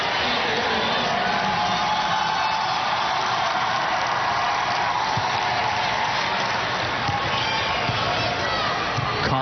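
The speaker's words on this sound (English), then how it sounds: "There's some of the crowd that came here." A crowd at a girls' high school basketball tournament game cheers and shouts continuously, with whoops rising over a loud arena roar and a commentator's voice.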